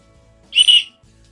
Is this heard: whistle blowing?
yes